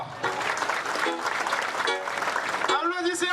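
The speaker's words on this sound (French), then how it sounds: "Applaudissez encore." Applause from an audience at a charity event for the children of Haiti, a steady wash of clapping mixed with voices, a speaker's voice over it and a brief rise near the end.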